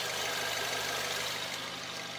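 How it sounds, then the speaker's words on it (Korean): A Kia Stinger with a 2.0 GDI turbo engine idles in a steady, even hum with a broad, smooth texture, close and continuous with no revving or talking. "차량 소음 들려드리면은"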